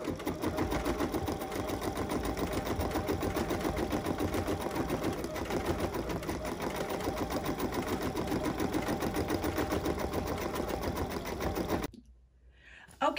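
An embroidery machine stitches a flower design in a fast, even mechanical chatter that runs steadily and close by for about twelve seconds before stopping abruptly.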